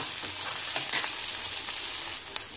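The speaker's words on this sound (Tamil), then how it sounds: "இப்போ பாருங்க கொஞ்சம் நல்லா வதங்கிட்டு பார்த்தீங்களா" Ingredients sauté in a pan for a country chicken soup, giving a steady close sizzle and crackle with a few brief stirring scrapes, with no voices.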